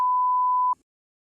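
A single steady censor beep bleeps out a word, holding for under a second at an even pitch before stopping abruptly into near silence.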